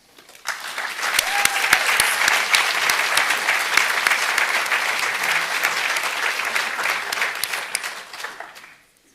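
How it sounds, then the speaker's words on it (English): An audience claps loudly at a diploma ceremony for an international medicine bachelor's track, a dense, sustained round of applause that swells in quickly, holds steady for several seconds, then fades out. "This is certainly deserving an extra round of applause."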